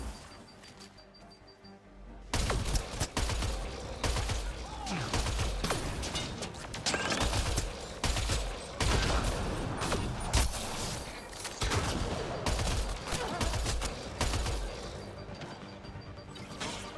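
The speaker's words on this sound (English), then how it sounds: "Where's he shooting me from?" Gunfire in the video game Mass Effect Andromeda comes in dense, repeated bursts of rapid shots and impacts that stay loud and close throughout, broken only by short gaps.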